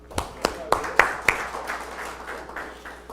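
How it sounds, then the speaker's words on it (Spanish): A handful of distinct, fairly regular claps from a church congregation during an evening sermon, quickly thinning out and fading beneath a speaking voice. "Un aplauso, Señor, hermanos."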